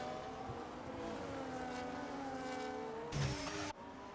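Race cars in the F1 25 racing game, a McLaren among them, with engines droning steadily and pitch sliding as they pass, plus a brief louder burst near the end.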